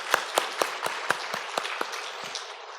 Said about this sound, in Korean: 다시 한번 감사의 박수 드리겠습니다